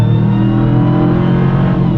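A 2021 Ram TRX pickup truck engine revving hard, a loud, close, sustained roar with rising and falling pitch, no voices.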